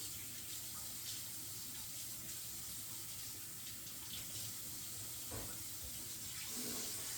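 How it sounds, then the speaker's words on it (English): Squash gets rinsed under a running kitchen tap, a steady, fairly quiet stream of water with soft splashes and shifting spatter as the vegetable moves beneath it. "first thing I do is I wash the squash, only so I don't have to sit there and cook dirt"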